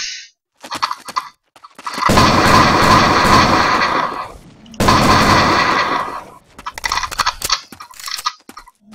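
Gunfire in the handheld game Counter-Strike Portable, with shotguns in use: dense, loud bursts of shooting with two long sustained stretches of firing, plus scattered shorter shots before and after.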